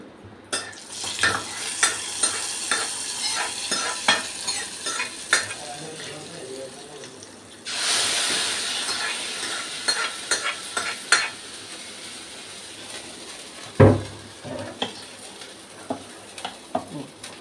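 Chillies fry in a pan for mint chutney, giving a constant sizzle under frequent clinks and scrapes of a spoon, with a brief surge of louder frying partway through.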